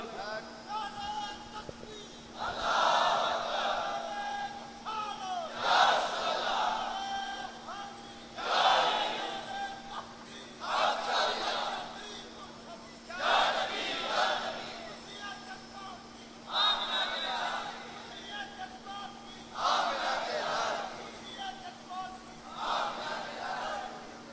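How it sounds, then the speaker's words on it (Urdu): A large crowd at a religious gathering chants a slogan in loud repeated bursts roughly every three seconds, call-and-response style, over a steady hum. "نعرہ لاؤ ول کر کے"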